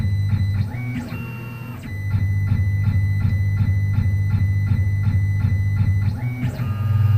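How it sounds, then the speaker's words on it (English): A CNC machine does a dry run cutting a hole in parts for a hydraulic press, with its motors stepping in rapid, evenly spaced whirring pulses over a steady low hum and brief higher-pitched sweeps at the start and end. "there it's cutting the hole"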